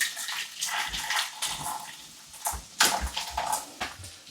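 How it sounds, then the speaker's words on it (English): Water poured from a jug onto a stock cube in a kitchen, 300 ml, splashing and trickling in uneven bursts close by, with soft thuds and clinks among the pouring. "I'm just going to add 300 mils of water to the stock cube"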